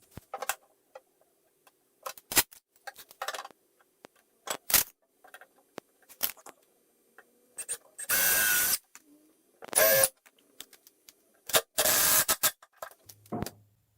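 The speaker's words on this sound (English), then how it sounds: "we're going to drill some holes through the side panels here" Several short bursts of power drilling through wood side panels, each a few seconds of whining buzz, separated by clicks, taps and workshop handling noises.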